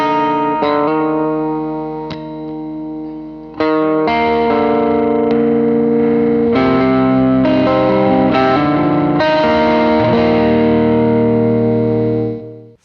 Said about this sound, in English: I have some reverb on there.